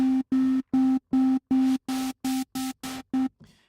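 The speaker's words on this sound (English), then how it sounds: "This is literally just playing a kind of white noise." Synthesizer patch on a Mai Tai synth, with noise oscillator and tonal oscillators sounding together as ten evenly spaced short gated bursts, each a steady buzzing tone over a hiss that grows brighter, ending in a faint noisy tail.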